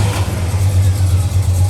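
A 1966 Chevrolet pickup engine runs loud and close with a steady low drone and a slight pulsing rhythm, sounding more like an even idle than a start or a sharp rev.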